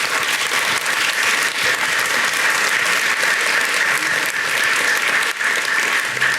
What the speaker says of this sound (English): A big round of applause and thanks to Alana and her team for leading this.